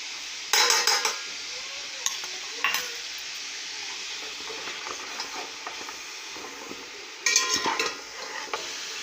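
Beef trotters sautéing with ginger garlic paste in a pot for paya, a soft ongoing sizzle broken by several sharp metallic clanks and scrapes of a spoon against the pot.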